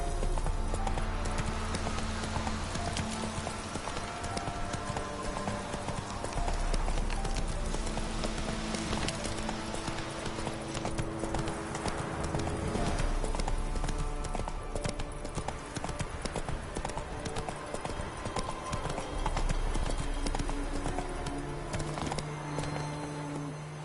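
Roach the horse runs in The Witcher 3 with rapid, rhythmic hoofbeats that continue unbroken throughout, layered over game music, close and fairly even in loudness.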